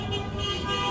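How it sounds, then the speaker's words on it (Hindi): Truck horns sound at a street protest in Chicago, held tones blaring over traffic noise with overlapping honks close by. "तो वो प्रोटेस्ट के लिए हॉर्न्स मार रहे हैं"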